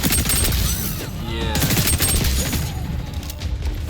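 Rapid automatic gunfire from a first-person shooter game, XDefiant, crackling in dense bursts through the first half and then thinning out, loud and close with game ambience behind it.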